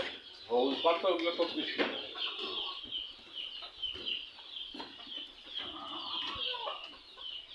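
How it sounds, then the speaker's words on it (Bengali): Native country chickens cluck and call steadily through the whole stretch at close range, with people's voices mixed in at times. "এগুলো সব দেশি মুরগি না?"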